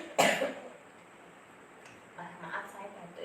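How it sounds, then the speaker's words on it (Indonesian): A single sharp cough sounds close up near the start, followed by quieter background murmur and faint voices. "Maaf saya batuk ya Pak."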